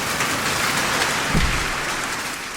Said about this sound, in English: You can see the rain, which is cool if I just caulked the center